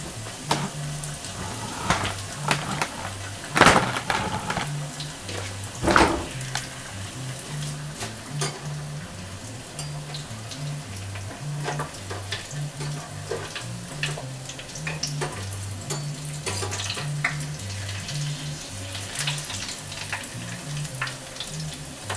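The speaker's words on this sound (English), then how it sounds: "Wow, they're already puffing up in the oil." Samosas deep-frying in hot oil give a steady, close crackling sizzle with busy bubbling that runs throughout, with no talk over it.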